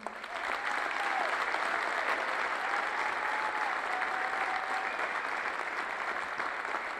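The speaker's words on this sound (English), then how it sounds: "I'd like a round of applause for 4 very important people." Audience in a high school gym honoring a hometown baseball player, sustained broad applause from a large crowd, steady and loud for several seconds before tapering slightly at the end.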